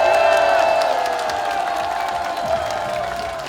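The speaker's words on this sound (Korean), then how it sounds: "여러분 더 크게 한번 박수 한번 쳐주십시오" A rally crowd in a Paju park cheers and applauds for a People Power Party candidate. The roar is loud and continuous throughout, with whoops and shouts on top and a steady tonal drone running beneath.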